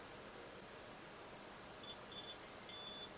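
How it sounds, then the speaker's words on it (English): A dual Xeon X99 motherboard's PC speaker gives a few short, faint high beeps over a steady loud hiss of fan noise. "Oh, made some beeps."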